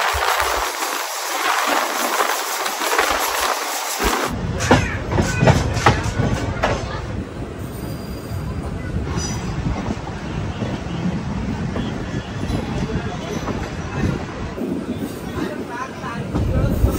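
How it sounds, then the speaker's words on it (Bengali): A train rumbles at Puri railway station under heavy wind buffeting on the microphone. The noise is loud and broadband, with a hiss at first and then a deeper, rolling roar. Indistinct voices mix faintly into the background. "ফাইনালি আমরা এসে পৌঁছে গেলাম পুরীতে, আর এই হচ্ছে পুরী রেলওয়ে স্টেশন"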